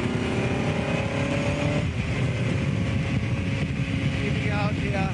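A 1959 Cooper Climax race car engine drones loudly and steadily at speed on track, with rising and falling pitch as gears shift, heard from inside the car; the driver speaks over the engine noise.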